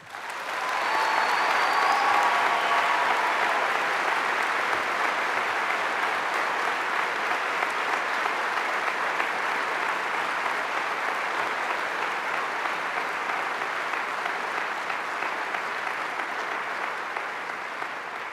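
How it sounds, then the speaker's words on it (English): A large ceremony audience at the Wake Forest School of Business hooding ceremony claps in a steady, dense wash of applause that holds for many seconds, easing slightly toward the end. "and we applaud his accomplishment"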